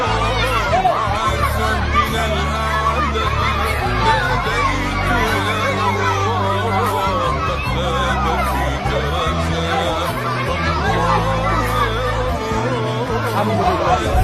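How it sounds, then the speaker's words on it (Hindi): Dense crowd gathered at a bread distribution in Gaza, a loud continuous babble of many voices with shouting and children's cries, close and unbroken throughout. "एक ब्रेड बट रही है, एक ब्रेड, और जहाँ भीड़ आप देखिए।"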